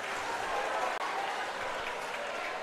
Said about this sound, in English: The crowd coming alive now here at the Rizal Memorial Stadium.